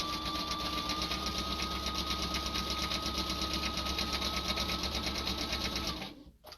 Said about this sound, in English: I'm going to pivot and take a couple stitches at an angle.